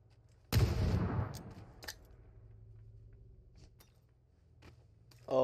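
A grenade goes off in a video game as one sudden loud blast that decays over about a second. Faint clicks and small game sounds follow, then a brief noise at the end.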